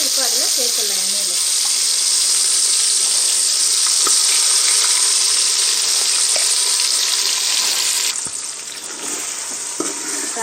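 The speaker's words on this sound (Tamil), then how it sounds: "நம்ம 1/2 hour நல்லா கறி ஊறிடுச்சுங்க. நம்ம எடுத்து இப்போ அதில் சேர்த்துடலாம் எண்ணெயில்." Marinated chicken frying in hot oil for Hyderabadi chicken dum biryani, a loud, dense, steady hiss and crackle close by that eases slightly near the end, with a brief voice at the start.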